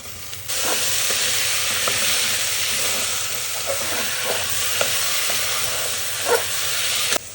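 Tomato pieces hitting hot oil with deep-browned onions for pav bhaji, a loud broad sizzle that erupts suddenly and holds steady, punctuated by scattered spatters and stirring clicks, with no voices.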